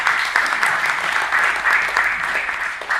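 Audience applause filling an auditorium during a commemorative arts event, a steady dense clapping that stays loud and even throughout with no break.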